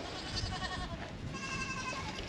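Goats bleat repeatedly on a farm, several wavering calls close by in steady succession over continuous background noise, with no talk.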